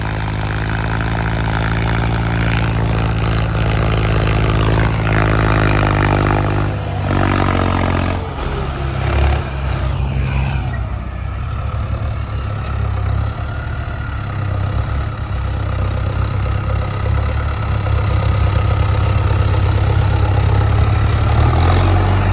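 Diesel tractor engines, a Mahindra Arjun Novo 605 and a Swaraj 855, run in a farm field, a steady low rumbling idle with a louder revving surge midway before settling back into a continuous throb.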